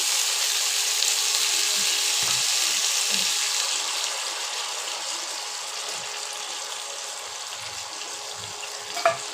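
Chicken sizzling in a pan with capsicum, onion and carrot for chili chicken, a steady loud frying hiss that fades slightly over time, with occasional soft clinks and stirring bumps and a sharp knock near the end.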